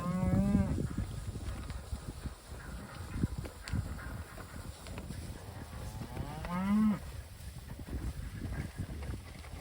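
Heifers at a pasture after pregnancy testing, two drawn-out moos several seconds apart, one near and one a little farther off, over steady wind and outdoor background noise.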